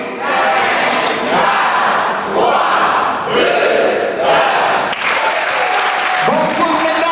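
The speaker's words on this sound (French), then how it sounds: "On applaudit." A comedy show audience applauds loudly and steadily, the dense clapping mixed with cheers and crowd shouts filling the whole stretch without a break.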